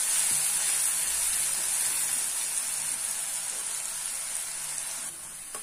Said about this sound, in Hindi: अच्छी तरीके से इसे भून लें। प्याज पूरी ट्रांसपेरेंट हो जानी चाहिए